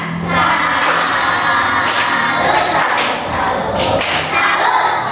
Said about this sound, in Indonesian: kita kasih tepuk salut untuk kelompok macan